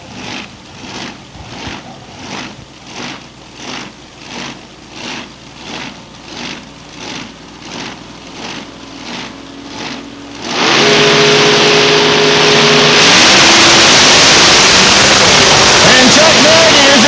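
A big supercharged Chevrolet drag race car idles at a drag strip with a lumpy, pulsing rhythm, about a dozen even throbs, under an announcer's voice. Then it erupts into a loud, sustained full-throttle roar.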